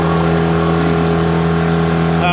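A Mercury 9.9 outboard motor drives an inflatable boat at steady speed, a constant droning hum with even engine tone throughout and no breaks.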